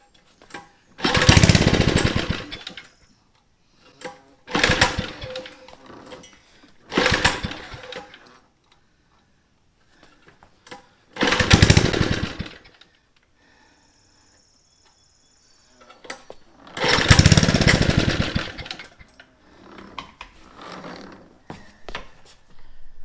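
Small mini bike engine with a troublesome carburetor catches and revs in several loud bursts when throttled, each dying away into short silent gaps.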